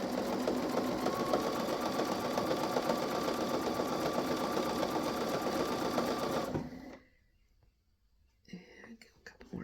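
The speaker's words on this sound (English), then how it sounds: "I'm going to keep stitching here." Sewing machine stitching polyester cording for an altar pad: a loud, steady, close mechanical whir with rapid needle chatter for about six and a half seconds, then it stops, leaving near quiet and soft handling noises.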